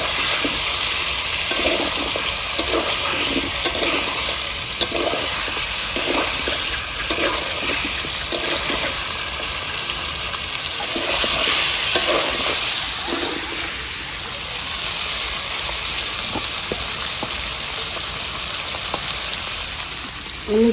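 Taro pieces go into a pan of village-style chicken curry and fry with a steady, close, crackling sizzle that carries on without pause, with a few brief louder splutters.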